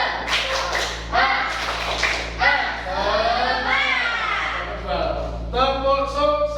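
A primary school class does a rhythmic cheer clap, tapping and clapping in bursts mixed with children's chanting voices, close and lively.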